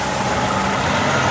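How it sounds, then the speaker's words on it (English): A truck rolls past at a busy spot near a highway truck stop, a steady broadband diesel rumble and road roar held close and loud for the whole moment, with no air-brake hiss clearly standing out. "People drive trucks around here all the time."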